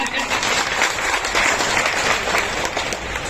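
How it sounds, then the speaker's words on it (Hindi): A crowd at a Delhi wholesale market event claps steadily in welcome for an arriving guest, a continuous busy patter of hands with voices murmuring underneath. "एक बार जोरदार तालियों से स्वागत"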